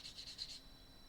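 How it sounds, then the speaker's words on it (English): Paintbrush pressed firmly onto watercolour paper, pushing water into the surface, giving five quick faint dry scratching strokes in a rapid even rhythm, close and quiet. "you can hear it scratching on the paper where the brush is pushing the water into the surface of the paper"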